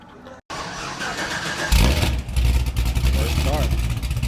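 Cammed Cadillac CTS-V V8 catching on its first start-up after tuning: a brief click and silence, then the starter cranking and the engine firing into a loud, lumpy idle with blips, close up, while people talk over it.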